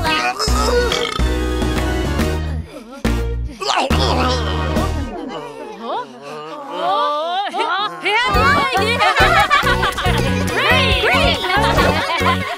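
A children's cartoon song about drinking cola, with sung voices over bouncy music and exaggerated cartoon burps in the middle, all loud and close.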